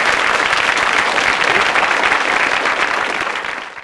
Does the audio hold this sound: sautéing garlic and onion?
no